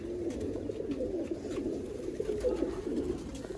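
Red-eyed border pigeons near Sialkot coo in a steady, overlapping murmur, several birds close by and continuous throughout with no talk.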